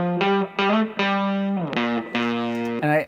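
Distorted electric guitars recorded through an Ampeg Scrambler pedal play a series of loud, sustained chords with a broken, gritty fuzz tone, several chord hits in sequence, up close and with no voices.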